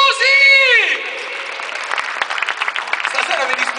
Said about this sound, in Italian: Un applauso a Oriella!